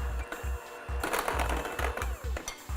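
Chocolate mayonnaise cake batter being mixed after the dry ingredients go in: a steady, rapid mechanical whirring with regular rhythmic pulses, close and continuous, with no talking.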